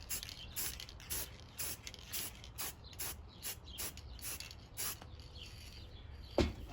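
Quiet bursts of spray paint hiss over netting laid as a stencil for a snakeskin camouflage pattern, coming in short rhythmic passes with faint clicks in between.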